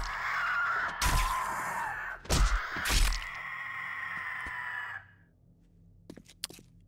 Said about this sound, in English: Let's knife ourselves some birds first before we do anything else.